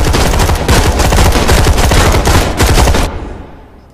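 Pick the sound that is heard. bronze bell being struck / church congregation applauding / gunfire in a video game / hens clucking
gunfire in a video game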